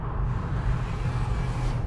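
A BMW E90 M3 V8 engine roars at 6,000 RPM, a steady, dense low rumble with a ragged rasping edge, loud and close throughout.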